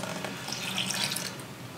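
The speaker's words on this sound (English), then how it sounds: "we're gonna pour in our lemon juice" Lemon juice poured from a container into a bowl of whisked egg yolks and sugar for lemon curd, a soft, continuous trickling splash, close and steady for under two seconds with no talking.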